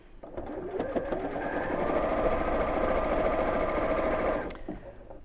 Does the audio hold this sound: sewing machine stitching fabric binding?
yes